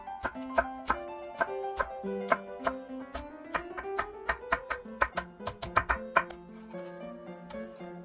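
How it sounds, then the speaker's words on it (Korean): Knife slicing green and red chili peppers into thin rings on a cutting board, a series of sharp, close chopping taps in an uneven rhythm that speeds up, with no talk. "풋고추와 홍고추는 송송 썰어주세요."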